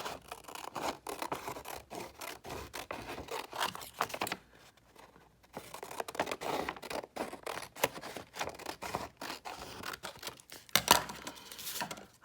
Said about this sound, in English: get a hold of a scissors, and I'm gonna cut right along that edge